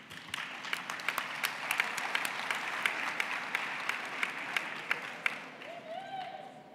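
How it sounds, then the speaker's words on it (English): A crowd at a university graduation ceremony applauds steadily, with sharp individual claps popping out of the dense clapping, and it fades toward the end. "I request you to give them a big applause"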